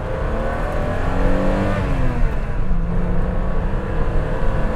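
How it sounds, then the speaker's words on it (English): The straight-six engine of a 50-year-old BMW E9 3.0 CSi classic coupé revs hard, its loud, steady note rising and falling as it climbs through the revs, with no talking. "Let's see if that BMW straight six magic is alive and kicking."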